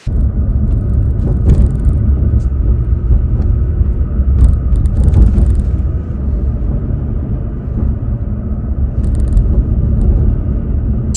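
A new Toyota Tacoma drives down a road with a steady, loud rumble of engine and road noise, broken by a few brief knocks that suggest something loose bouncing around underneath.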